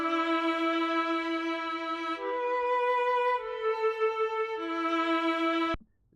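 Sustained string chords in a beat, played dry without any rotary effect, holding steady harmonic tones that shift chord around two and three seconds before cutting off abruptly near the end.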